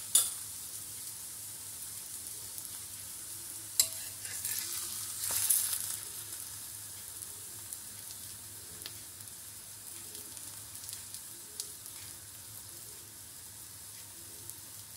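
Bottle gourd paratha sizzling in a little oil on a pan, a steady soft frying hiss throughout with a couple of faint clicks and scrapes.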